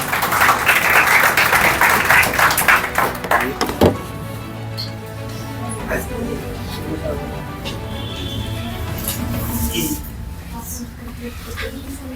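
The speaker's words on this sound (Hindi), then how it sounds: "तो एक बार जोरदार तालियों से उनका स्वागत करें।" An audience at a toppers' award ceremony and poetry gathering breaks into loud, dense applause to welcome a teacher. The clapping runs for about four seconds, then gives way to a speaker talking over hall ambience.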